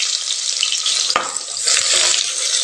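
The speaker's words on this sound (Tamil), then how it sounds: "இது நல்லா பொன்னிறமாக வறுபட்டு வரட்டுங்க" Sliced large onion frying in oil in a pan, a loud, dense hiss of sizzling close by, with a sharp knock of a utensil partway through and faint scraping.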